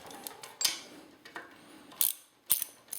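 Wrench working loose the front axle nuts on a Harley Davidson Softail, a few quick ratcheting clicks and metallic ticks up close, separated by short pauses.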